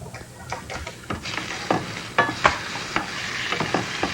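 Noodles sizzle in a frying pan while a wooden spoon tosses and stirs them. Scraping and clattering strokes come in an irregular rhythm over a steady frying hiss, close up and with no talk.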